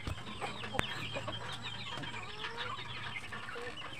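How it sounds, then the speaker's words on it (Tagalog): A group of chickens clucks and murmurs nearby, soft overlapping calls over a low outdoor hum, with a sharp click early on. "Kapakainin ko yung mga manok."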